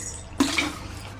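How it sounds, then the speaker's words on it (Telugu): Water splashes into sago fritter batter in a home kitchen, a short close pour that starts abruptly and runs for under a second, with no talking. "కొంచెం వాటర్ వేసుకొని"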